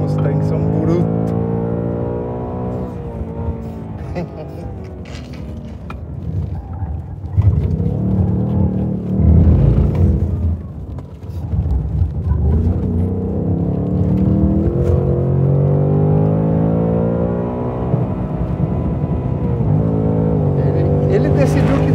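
A Ford Mustang Mach 1 V8 on a race track roars loudly and steadily, with a sharp revving surge midway as it downshifts. The engine then settles back into a strong rumble, and a person talks over it.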